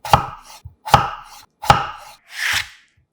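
Three crisp knife chops slicing potatoes into 0.5 cm slices on a cutting board at an even pace, then a softer scraping slide, close up with no talking.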